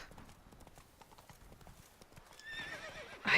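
Roach, Geralt's horse in The Witcher 3, clip-clops in a steady rhythm of close hoofbeats, then lets out a sharp rising whinny at the end.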